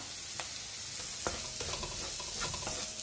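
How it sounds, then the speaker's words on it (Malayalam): Garam masala and other spice powders sizzle and fry in a pan over a low flame while being stirred, with steady soft frying hiss and occasional scraping of the spoon against the pan. "പൗഡേഴ്സിന്റെ എല്ലാം റോ സ്മെല്ല് മാറി വരുന്നത് വരെ ഇളക്കി കൊടുക്കുക"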